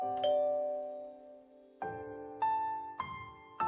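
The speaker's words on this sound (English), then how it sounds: "I pressed the doorbell." Doorbell in the visual novel game Aikome, a clean electronic chime that rings one long sustained tone, falls quiet, then strikes three more bright ding-dong notes in quick succession.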